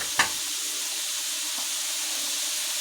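Onions dropped onto liver frying in a pan give a brief burst at the start, then a steady, faint hiss of sizzling oil carries on with no talk.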